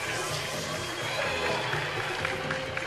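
Large outdoor crowd at a warm-day cyclo-cross World Cup podium in Iowa City, cheering and clapping steadily through a champagne shower, a dense continuous roar with voices mixed in.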